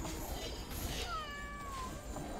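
Meow from a cat-skinned unit in the strategy game Legion TD 2, a single drawn-out electronic cat call rising and falling over a busy game soundscape, without talk.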